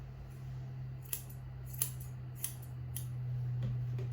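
A few sharp scissor snips, spaced irregularly, cut through material over a steady low electrical hum.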